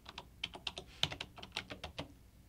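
Quick, light keystrokes on a computer keyboard as a name is typed, an uneven patter of about a dozen soft clicks heard up close in a quiet room.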